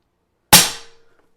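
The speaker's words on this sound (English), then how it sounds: "Let's cock it and shoot it again" A single sharp crack from a Pinty Bullpup air rifle fitted with add-ons, loud and close, decaying quickly to silence with a faint ringing tail.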